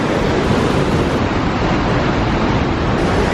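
Loud, steady rush of a powerful waterfall cascading with heavy flow near a wooden bridge in Québec, a dense continuous roar filling the whole stretch without pause.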